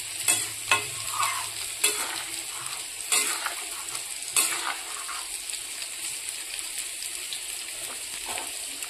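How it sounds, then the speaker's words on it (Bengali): Sweet pumpkin pieces fry in a pan with a steady sizzle, broken by several sharp scraping stirs of a spatula spaced a second or so apart, close and clear with no talking. "দেখো মিষ্টি কুমড় ভাজি করছি।"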